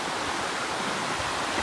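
Steady broadband rush of stream water at a trail crossing on a canyon hike toward a waterfall, continuous and close, with no talking over it.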